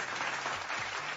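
A brief burst of crowd applause, a steady wash of many hands clapping that lasts about a second.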